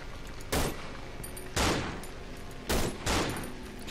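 Handgun fire in the horror game Cry of Fear: four loud, sharp shots in an uneven rhythm, each with a short decaying tail, over a constant low background hum.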